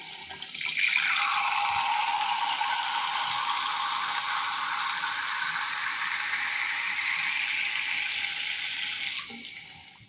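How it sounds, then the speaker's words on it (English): A kitchen faucet runs as a thin, steady stream of water fills a small glass for about nine seconds, even and close, then cuts off. "Look how long it takes to fill this tiny little glass."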